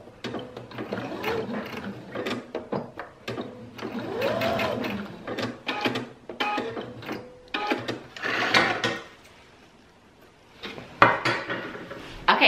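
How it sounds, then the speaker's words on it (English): Sewing machine stitching drop cloth fabric, running in bursts of rapid mechanical whirring and clatter as it back stitches and forward stitches to lock a seam, close and clear with brief pauses between runs. "When you get to your end, make sure you back stitch and forward stitch to lock that in."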